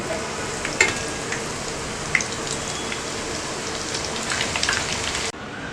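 Chicken lollipops cut from chicken wings deep fry in hot oil with a dense, steady crackling sizzle, close and fairly loud, with sporadic sharper pops, ending in a sudden drop near the close; no one speaks.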